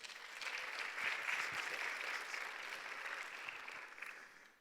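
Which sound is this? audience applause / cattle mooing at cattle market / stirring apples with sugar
audience applause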